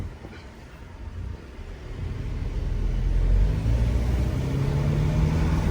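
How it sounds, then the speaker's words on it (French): Skoda diesel car engine while driving in city traffic, a low steady rumble heard from inside that swells gradually as the car moves, without speech. "le son du diesel est présent, mais pas de ouf"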